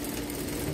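Sewing machine running steadily while stitching elastic onto a fabric surgical cap, a continuous close mechanical whir with no talk.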